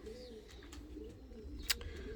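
Racing pigeons rest in their loft after a hard race stage, giving soft, low, repeated cooing that stays faint and steady with no voices.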